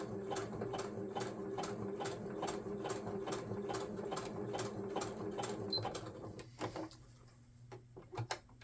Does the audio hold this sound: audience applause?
no